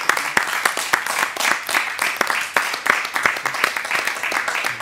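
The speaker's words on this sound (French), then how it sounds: "On va applaudir Jean-Pierre?" Audience applause for speaker Jean-Pierre Berlan after a lecture, a close, fairly loud patter of individual claps from a modest crowd, uneven in rhythm and continuing steadily for about five seconds.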